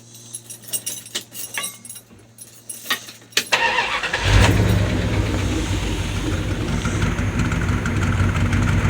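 A truck engine idles steadily after a burst of clicks and jangling before it, settling into a loud, continuous low rumble that holds evenly to the end with no talk.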